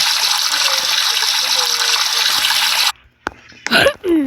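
Steady rushing shower water sprays for a few seconds, then stops abruptly, followed by a couple of knocks and squeaky handling sounds.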